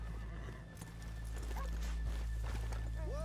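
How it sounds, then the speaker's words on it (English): Horses in the video game Red Dead Redemption 2 clop along at a walk beside a steady low ambient hum, with a couple of short whinnies toward the end and no talk. "Leave the horses here off the main drag."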